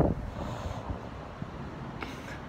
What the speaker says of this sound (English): It's all windy up in here.